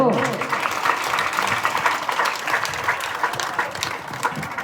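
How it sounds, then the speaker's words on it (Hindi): Audience clapping at an outdoor Bhagavat Katha religious gathering in Himachal near Hamirpur, Una, a moderate and steady patter of applause with talk over it. "अरे ताली तो बजा दो।"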